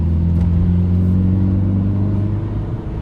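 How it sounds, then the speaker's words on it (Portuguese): A remapped Ford Focus accelerating: a loud, close, steady engine drone with a deep humming rumble that holds for a few seconds and eases slightly at the end. "Outra coisa que eu achei que o carro ficou bom, a aceleração."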